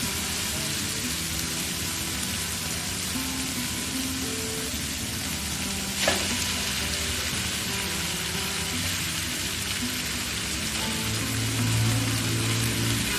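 Noodles tossed with vegetables on a high flame for chicken chow mein give a loud, steady sizzle that fills the whole stretch, with one brief scrape midway.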